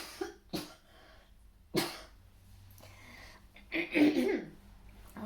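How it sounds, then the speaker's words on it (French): Several separate coughs from one person nearby, a couple of short sharp bursts early on and a longer rough cough-and-throat-clearing run near the end, with quiet breathing between. "ça me donne envie de tousser"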